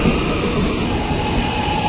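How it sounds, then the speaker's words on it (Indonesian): A twelve-car KRL commuter train bound for Jakarta Kota rolling into platform 1 at a station, with a loud, steady, close rumble of wheels and carriages filling the whole moment and no voices. "Masuk di jalur 1 komuter tujuan akhir stasiun Jakarta Kota, jalur 1 dengan nomor KA 1241 rangkaian 12 kereta."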